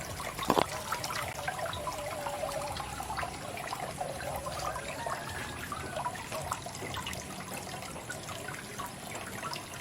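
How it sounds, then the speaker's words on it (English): Water trickles steadily from a multi-purpose garden fountain that doubles as a fish pond and aquaponic system, a continuous close splashing with a small splash near the start. "multi-purpose water fountain, a fish tank, and at the same time an aquaponic system"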